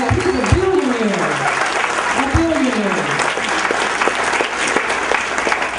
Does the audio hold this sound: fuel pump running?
no